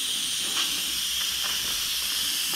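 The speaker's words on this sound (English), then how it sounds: "We're going to press that. It's going to shoot steam everywhere." An Instant Pot pressure cooker venting steam during a cook of butter chicken, a loud, continuous close-up hiss that stays steady from start to finish.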